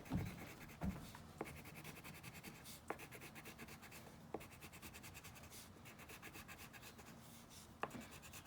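Pencil or pen drawing trees on paper, a soft continuous scratching and rubbing with a few sharper taps as strokes start, close and quiet with no talk.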